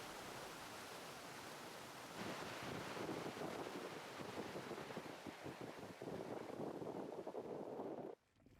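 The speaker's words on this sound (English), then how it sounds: "So strong are the winds that the vapour from this waterfall is almost reaching for the skies." Strong Icelandic wind roars steadily across the microphone near a waterfall, a loud broadband rush with gusts swelling midway, cutting off abruptly near the end.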